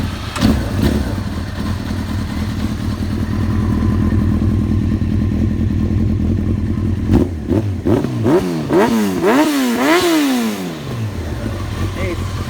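A 1993 Honda CBR900RR Fireblade SC28 with carburetors and 10,000 miles runs at a steady, lumpy idle, then is revved hard several times, the pitch sweeping up and down loudly and close before settling again.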